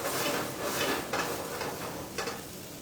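Bourbon burning off in a hot pan on a stove while a top sirloin bourbon cream sauce cooks, giving a soft, steady sizzle and crackling hiss with a few brief louder flares, close and fairly quiet.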